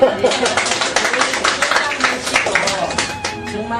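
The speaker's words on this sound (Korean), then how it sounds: "박수!" Former students at a class reunion applaud, many hands clapping together in a dense, lively burst close by that continues throughout.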